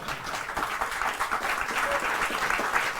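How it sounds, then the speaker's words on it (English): A talk show studio audience claps steadily throughout, a dense wash of applause that holds at an even level from start to finish. "You are applauding a very bad idea."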